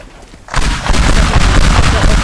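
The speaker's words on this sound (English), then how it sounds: "Let's see if the banana bomb does anything." Banana bomb detonating in the video game Teardown, a sudden loud blast after half a second of quiet followed by a sustained rumbling, crackling roar.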